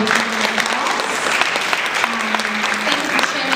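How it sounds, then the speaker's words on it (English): Audience applause at a seminar panel, a steady, fairly loud spread of clapping from the room, with a voice faintly speaking over it. "Please, let's give a big round of applause."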